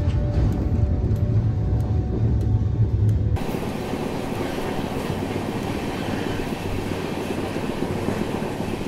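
Kolkata Rajdhani Express running at night, heard from inside as a steady rumbling roar of wheels on rails, with a heavier low-pitched rattle that shifts suddenly to a smoother, brighter rush partway through.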